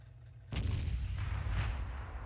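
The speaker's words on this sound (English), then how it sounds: "I did see an artillery shell fly over the top." Artillery fire in World of Tanks, a single heavy boom that starts abruptly and leaves a loud, sustained low rumble behind it. No voices are heard.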